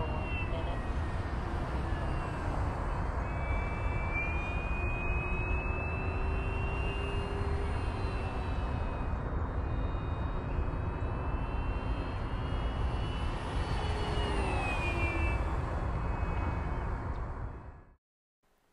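An FMS F4U Corsair 1700mm RC model airplane in a stock configuration flying at full throttle: a loud, steady electric-motor whine with shifting pitch as it climbs, rolls and turns, continuous for about seventeen seconds before cutting off.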